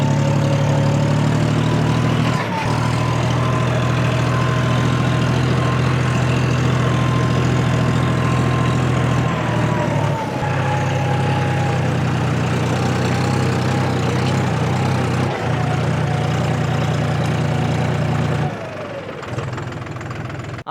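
A John Deere 4WD tractor engine runs steadily close by, with a loud, continuous low rumble and throb that holds almost unchanged throughout, and a few brief dips in pitch and level near the end.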